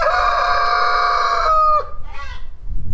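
A large rooster with a small comb, kept on a snowy homestead, lets out a loud, long crow close by, then trails off into a few softer clucks.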